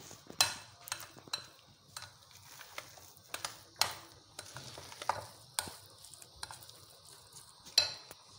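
Homemade khoya stirred in a pan, a series of close scraping strokes and light metallic clinks of the spoon against the pan in an irregular rhythm, with faint sizzling between strokes.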